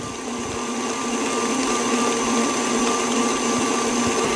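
A blender whirs steadily, mixing a peanut butter chip mixture with coconut oil, a continuous loud motor drone with a high whine that holds constant throughout, close and alone.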